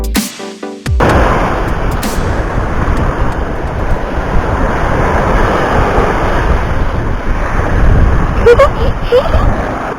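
Sea waves surging and washing along a rocky shore near an abandoned place, a steady loud roar buffeted by wind noise on the microphone throughout.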